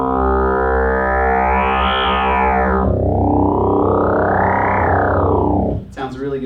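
A heavy, distorted wavefolded bass tone from a Korg Minilogue XD analog synthesizer, rich in harmonics, sweeping up and down in pitch across two long swells before cutting off abruptly.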